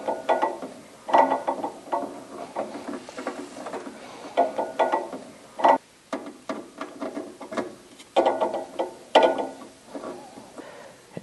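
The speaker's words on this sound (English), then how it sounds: "You can put your screws, your two Phillips screws, back into the defrost thermostat." Two Phillips screws being driven back into a defrost thermostat on a Santa Fe Advance2 dehumidifier, giving irregular clicking and ratcheting bursts of a screwdriver, close and moderately loud with short pauses between.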